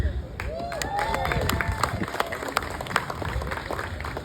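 Comedy club audience answering with a burst of scattered clapping and some cheering, moderate and a bit distant, lasting a few seconds in a lively room.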